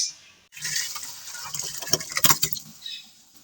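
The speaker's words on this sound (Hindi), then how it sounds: "हमारी सेमियाँ उबल चुकी हैं। अब हम इनको छान लेते हैं।" Boiled vermicelli is strained after cooking, bringing a sudden gush of draining water that patters and splashes steadily for about two seconds before trailing off into quiet drips.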